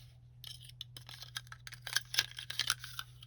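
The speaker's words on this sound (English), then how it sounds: "So we'll cut our ribbon to length." Sharp dedicated ribbon scissors snip through card-making ribbon in a quiet room, a quick cluster of light, crisp close-up cuts and small rustles.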